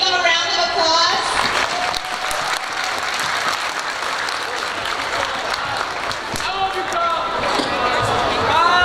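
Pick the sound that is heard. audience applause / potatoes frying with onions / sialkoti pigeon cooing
audience applause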